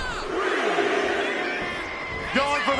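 Wrestling arena crowd in WWE 2K26 roaring and cheering continuously, with rising shouts near the end, under a commentator's voice.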